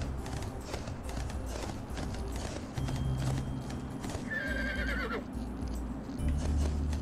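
Hooves clip-clop steadily as a horse gallops in Barbie Horse Adventures: Wild Horse Adventures, with whinnies and neighs breaking in partway through, close and fairly loud over game background sound.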